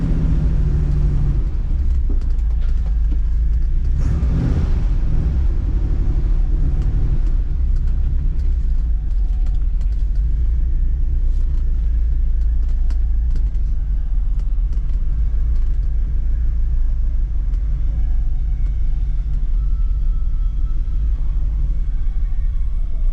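A 1978 Dodge Aspen R/T Super-Pak idles with a steady, loud, close rumble for the whole stretch, with no voices over it.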